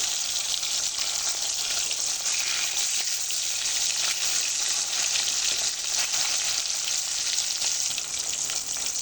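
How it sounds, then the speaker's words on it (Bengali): Hilsa fish pieces fry lightly in oil with a dense, even crackling sizzle, close and sustained throughout and free of speech. "মাছগুলো কিন্তু আমি খুব বেশি ভাজবো না, হালকা করে একটু ভেজে নেব।"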